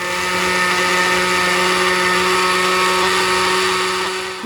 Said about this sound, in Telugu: దీన్ని బాగా బాయిల్ చేసిన తర్వాతనే మిక్సీ చేస్తాను